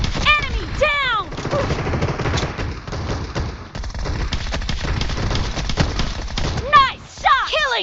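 Rapid gunfire bursts crackle through a shooting video game match, dense and continuous under game announcer voices and player chatter, with sharp whistling effects near the start and end.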